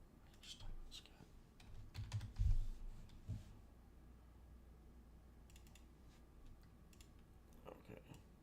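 A computer keyboard being typed on in short bursts of faint clicks scattered across the stretch, with some low background noise and a brief louder thump.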